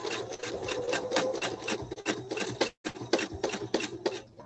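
A sewing machine stitches in free motion quilting, its needle hammering in fast rhythmic bursts with one brief stop midway, close and clear, with no talking.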